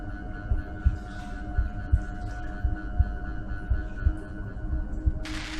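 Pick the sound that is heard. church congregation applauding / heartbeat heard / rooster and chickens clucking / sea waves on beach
heartbeat heard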